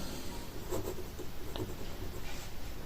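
A pen or pencil writes numbers by hand on paper, faint scratchy strokes and light taps close by over a steady background hiss.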